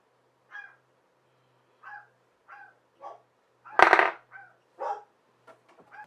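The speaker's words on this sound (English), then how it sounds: "Do you guys hear my dogs barking?" Several dogs barking in short bursts around the house, scattered yips spread across a few seconds with one louder, sharper bark in the middle, fairly close but not loud.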